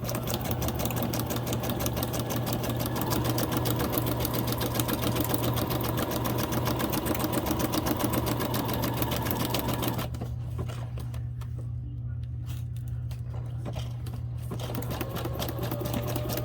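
A sewing machine stitches a small zigzag down the center of white-on-white fabric. The close, steady mechanical whir runs alone for about ten seconds, then gives way to a quieter, softer hum.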